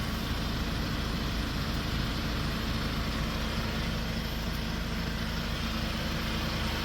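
A 2017 Hyundai Porter II Super Cab truck with a Euro 6 engine and 160,000 km idles steadily with a constant low rumble and broadband drone, no voices, unchanging throughout.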